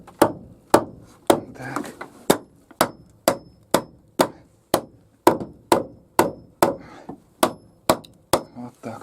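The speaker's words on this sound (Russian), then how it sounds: "Чтобы не забыть сразу прибить вот эту стойку обязательно." A hammer drives nails into a wooden post in the attic of a log cabin, about fifteen sharp, close, evenly paced blows at roughly one per second, each ringing briefly, with a short word spoken early on.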